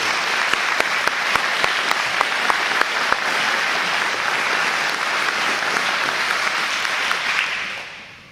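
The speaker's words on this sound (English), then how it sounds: "we ought to give them a real round of applause" An audience at a community forum about the Kenmore bypass claps loudly and steadily for several seconds. A few sharp, distinct claps stand out early on, and the applause fades away at the end.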